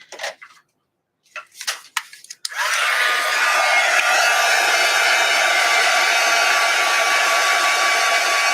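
Hair dryer blown over artwork, switching on after a few soft clicks and handling noises, then a loud, steady continuous whoosh and whine.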